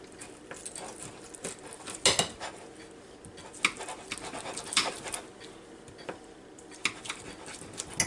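Cutlery scraping and clinking against a plate as a cooked pork chop is cut off the bone, with scattered light taps and knocks, quiet and close.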